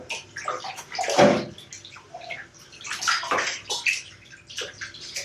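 Water pours and splashes into a tub being filled for dyeing clothes, with uneven gurgling bursts and sloshing, fairly close and moderately quiet, with no talking.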